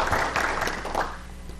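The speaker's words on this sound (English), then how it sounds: "How about a round of applause for the Elks and all they do for our community throughout the year?" Council meeting audience in Jefferson City, Missouri giving a short burst of applause for the Elks, a dense patter of clapping that fades out over under two seconds.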